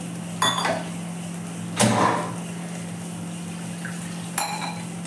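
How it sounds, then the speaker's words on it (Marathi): Rinse water from a spice blender jar poured into urad dal, heard as three short splashing pours with metal vessel clinks, close by, over a faint steady hum. "ते मसाल्याचं पाणी टाकून देते मी आपल्या डाळमध्ये."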